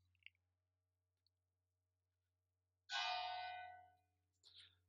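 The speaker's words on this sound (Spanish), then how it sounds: "Suena la campana, no es esta iglesia, es otra" A single bell stroke from a nearby church rings out and fades over about a second, heard from indoors in an otherwise quiet room with a low hum.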